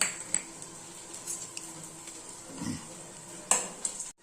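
Clinks of a utensil against a pan over a low, steady sizzle of hot oil, with a brief rattle as chana dal and urad dal drop in. No talking.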